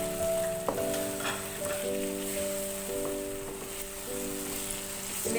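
Garlic and ginger sizzle steadily in a pan over a high flame, a soft continuous fry with a faint tonal hum running underneath.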